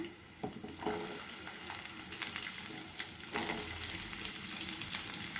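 Small onions fry in oil in a pan, making a continuous soft sizzle. Occasional scraping and clattering from stirring sound close by.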